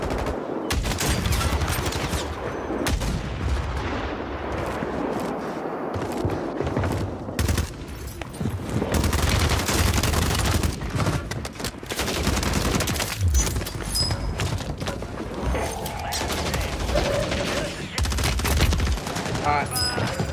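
HRM9 submachine gun firing in a first-person shooter video game on Rebirth Island, with rapid automatic bursts and fusillades repeating across the whole stretch alongside other gunfire and in-game effects.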